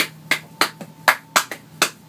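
Sharp, crisp hand claps in a music track, about seven hits in a loose, slightly uneven rhythm, close and clear over a faint steady hum.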